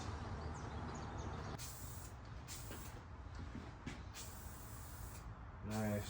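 Aerosol spray can misting paint in light coats onto a car driveshaft, a steady broad hiss in short bursts with pauses between passes, close and fairly loud, with a brief rattling sound near the end.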